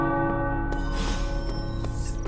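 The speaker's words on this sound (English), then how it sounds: "The tower bells are ringing." Tower bells ring in the video game Marvel's Midnight Suns with several resonant strikes a fraction of a second apart, their long, humming tones overlapping and sustaining throughout.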